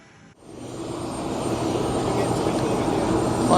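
An Eastern Airways Embraer airliner's engine spools up after a brief quiet moment, building into a steady, loud whining roar that keeps rising and holds for a few seconds.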